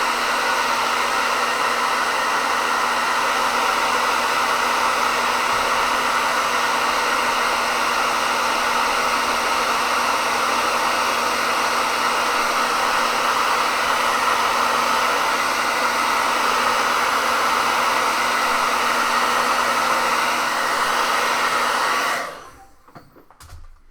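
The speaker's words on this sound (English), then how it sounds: "I want to hit this with the hair dryer" A hair dryer blows steadily on wet paint, a loud, even, hissing roar held for about twenty seconds before it cuts off abruptly.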